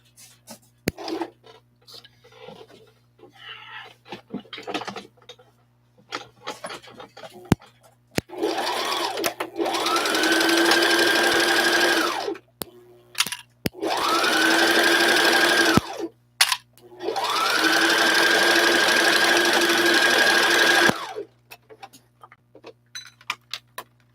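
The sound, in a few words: sewing machine stitching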